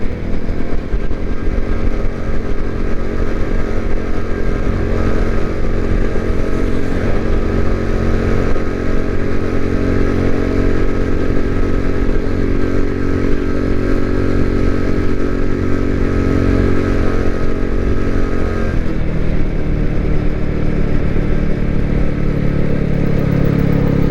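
A MadDog motorcycle engine drones loud and steady while cruising at 40 mph around 3,000 RPM, heard up close with wind rush throughout and a slight drop in engine tone near the end.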